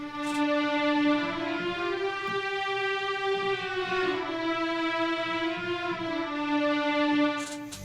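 Classic sustained orchestral strings from a sample library hold long, smooth chords that shift gently in pitch, playing steadily and fairly loud for the whole passage with no talking.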